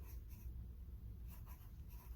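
Pencil shading on paper with an underhand grip, the graphite rasping softly in a steady continuous scratch, close and quiet, with no talking.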